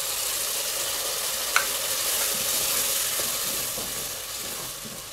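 Tomato puree with green chili paste frying in oil in a pan, giving a steady close sizzle with occasional scrapes of a stirring spoon and one brief clink.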